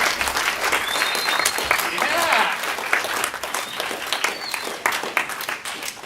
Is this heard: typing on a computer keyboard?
no